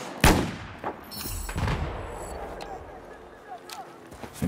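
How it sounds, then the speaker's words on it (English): Sharp, loud shots from a Desert Eagle pistol ring out in Battlefield 4 on the Guilin Peaks map, a few spaced cracks with echoing tails. Talk and quieter gunfire continue around them. "Let's get out the deagle."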